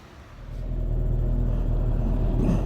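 A Suzuki GSX-R 750 motorcycle engine swells into a deep, close rumble that holds steady and loud through the rest of the moment, with no speech.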